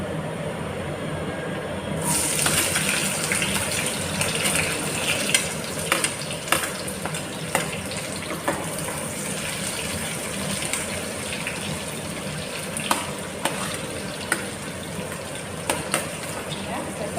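Onion and garlic hit hot oil in a pan and break into a loud, steady sizzle after a brief quiet start. Irregular spoon scrapes and taps sound as the mix is stirred close by.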